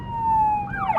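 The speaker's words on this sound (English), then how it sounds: "That's a fire truck siren." A fire truck siren wails steadily with a sustained tone that bends near the end, fairly loud and close, with traffic rumble beneath.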